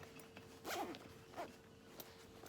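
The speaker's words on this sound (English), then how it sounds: "All right, let's zip it up." A zipper on a small handmade fabric sling bag is pulled closed in a quick pair of rasping strokes, close and clear in a quiet room with no talking.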